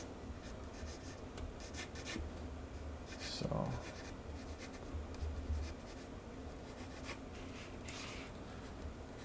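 Pencil drawing on paper, scratchy graphite strokes rubbing steadily across the sheet throughout, fairly close, with a brief spoken word and light background noise.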